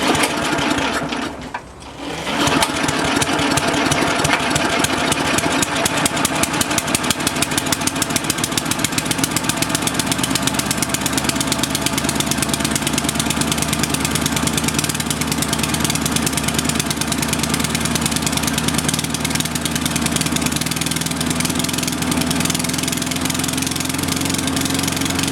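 Small engine of a Snapper self-propelled lawn mower running steadily and loudly for the whole stretch, with a brief sputter near the start before it settles into an even drone with no talk.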